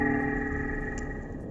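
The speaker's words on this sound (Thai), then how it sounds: "นี่เป็นเสียงร้องของวาฬมิงค์แคระที่ถูกตั้งชื่อเสียงร้องว่า Star Wars" Dwarf minke whale "Star Wars" call recorded underwater, a steady metallic mechanical drone with a faint ticking pulse, sounding continuously and alone.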